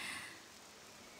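Rain falling in the Octopath Traveler II video game, a steady hiss of poison rain that starts a little louder and settles into an even wash with no voices.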